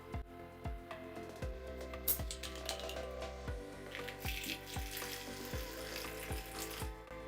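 Water pours out of a container in a quiet, steady stream, with repeated small splashes and glugs spaced at a rough rhythm.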